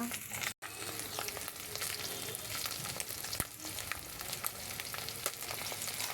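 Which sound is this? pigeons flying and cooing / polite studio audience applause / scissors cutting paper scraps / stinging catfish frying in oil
stinging catfish frying in oil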